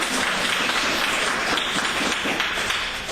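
Dense, steady applause fills a hall from a large crowd at a 2014 North Carolina state senate candidate debate, loud and continuous, with no voices on top.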